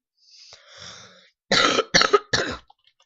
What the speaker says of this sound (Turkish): Çok pardon öksürük tuttu.